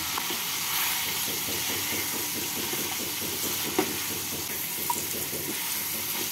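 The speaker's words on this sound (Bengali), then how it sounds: "পটলটাকে মশলার সাথে নাড়াচাড়া করে নেব।" Fried pointed gourd is stirred with spices in a pan, a steady hiss of frying with a fast, rhythmic scraping texture and a couple of brief knocks, close by and without talk.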